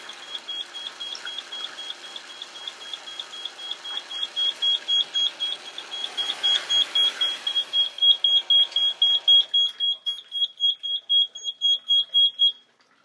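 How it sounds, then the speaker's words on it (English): A sprinkler system alarm rings in a rapid, steady train of high-pitched pulses, growing louder and more distinct before stopping abruptly. "I'll silence that alarm at this time"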